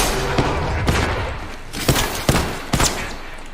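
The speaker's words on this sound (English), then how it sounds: "Getting shot at." Several sharp gunshots crack out in a video game firefight, spaced irregularly over a few seconds against a rumbling background, loud and close with little talk.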